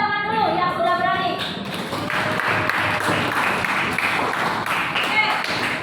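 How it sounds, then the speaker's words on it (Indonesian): Classroom applause, students clapping together in a steady patter across several seconds, fairly loud and close, with a brief ringing tone and chatter at the start. "Jadi tepuk tangan dulu yang sudah berani."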